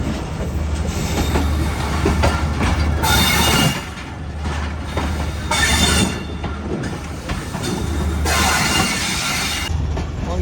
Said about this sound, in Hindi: बहुत ज़्यादा करीब से गुजर रही है ट्रेन भाई।